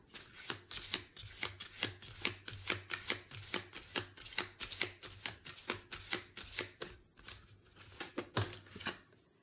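Tarot cards being shuffled for an advice card, a steady rapid rhythm of close, crisp card riffles and taps running throughout, quiet and without speech.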